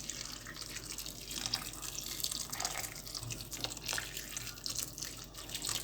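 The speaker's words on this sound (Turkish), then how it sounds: "Sıcak suyum hazırdı zaten. Üzerine döküyorum." Hot water poured over frozen okra in a pot, a steady close splashing and trickling stream running without break, with no talking.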